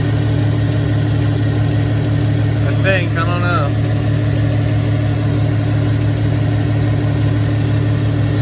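A VW MK4 GTI engine idles steadily while warming up after a coolant refresh, a constant low hum running throughout with brief speech partway through.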